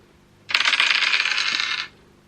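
Dice rattle rapidly inside a container for just over a second, a bright clattering shake that starts and stops abruptly.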